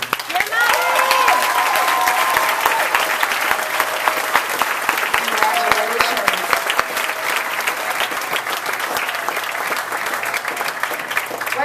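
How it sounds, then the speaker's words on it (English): A graduation ceremony crowd applauding its graduates, long sustained clapping from a big audience with crisp individual claps throughout, a few cheers and voices rising over it, slowly easing off toward the end. "Let's give one more round of applause for all of our graduates."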